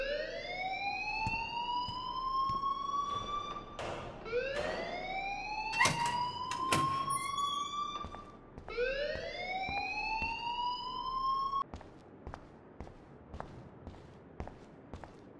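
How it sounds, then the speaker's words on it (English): In the Life is Strange video game, a fire alarm siren rises in three long, climbing wails, loud and shrill, with sharp clicks and footsteps scattered underneath, then cuts off and leaves scattered taps. "please turn off that alarm since that's your job"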